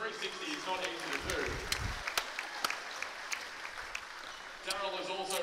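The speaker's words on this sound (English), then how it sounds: "give a round of applause" Audience applause at a 2015 AJC U20 men's grand final basketball event, a broad crowd wash with scattered sharp claps and cheering, while an announcer's voice talks over it near the start and end.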